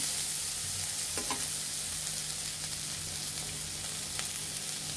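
Chopped onion, ginger, garlic and green chilli fry in a small amount of oil with a steady, close sizzle and a few stirring scrapes.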